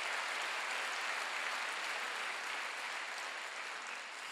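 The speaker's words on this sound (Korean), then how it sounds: "박수로 하세요." Steady, even applause from a church congregation during a Sunday worship service, a continuous wash of clapping at moderate volume with no voices over it.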